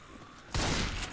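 Gunfire in the zombie shooter Left 4 Dead 2 at the Dark Carnival: a sudden dense burst of shots starts about halfway through and runs on loud to the end, with no talk.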